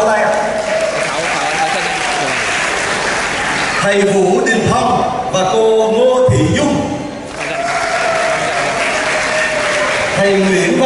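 A standing wedding congregation in a church claps as couples are joined in marriage, with a broad hiss of applause under a man reading names aloud and a brief musical passage in the middle.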